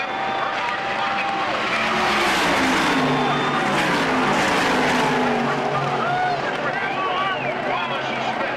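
NASCAR race cars at Daytona in 1995 roar toward the checkered flag in a loud, sustained blur of engines with rising and falling pitches as cars pass, while an announcer talks over the racket.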